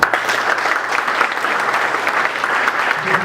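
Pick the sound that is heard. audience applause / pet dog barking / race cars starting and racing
audience applause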